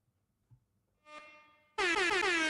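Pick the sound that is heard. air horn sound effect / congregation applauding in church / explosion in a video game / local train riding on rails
air horn sound effect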